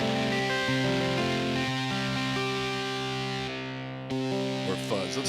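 A Yamaha Montage/MODX synthesizer plays sustained chords through a distortion amp effect, giving thick, buzzing tones that shift between held notes before a brief cutoff and a new chord.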